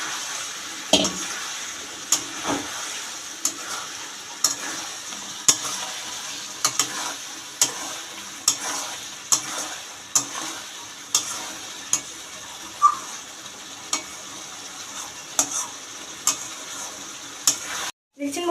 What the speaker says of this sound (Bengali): এই মশলাটা কষাতে কষাতেই এর উপর ভাজা আলুটা দিয়ে কষিয়ে নেবো